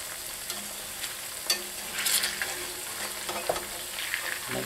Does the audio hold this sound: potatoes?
yes